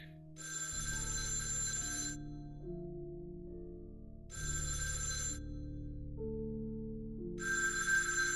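A telephone rings in three loud, repeating bursts of bell tones over a low, steady bed of music.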